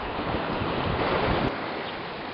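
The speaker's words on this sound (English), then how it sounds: "Here we are, water pouring off the roads." Rainwater pours off the roads onto Browns Bay beach, a steady broadband rushing wash of water heard close and continuous with wind noise, and no talking.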